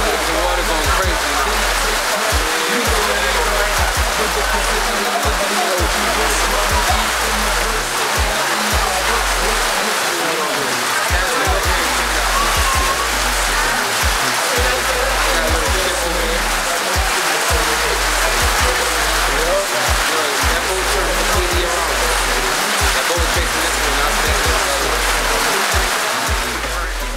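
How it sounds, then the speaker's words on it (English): Rushing water at Maracas Bay, Trinidad, a loud constant roar of surf and churning water with rhythmic low thumps throughout, and people talk over it at times. "The water going crazy."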